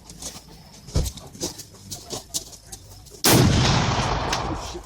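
A red toy pistol fires a loud, harsh electronic gunshot burst partway through, ringing on steadily after a few softer clicks and knocks.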